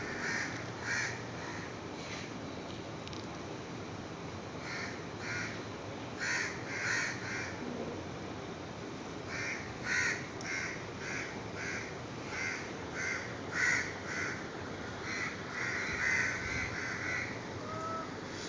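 A flock of crows caws continuously from trees behind a house, with repeated overlapping harsh calls at moderate distance over steady outdoor background noise while a monkey is nearby.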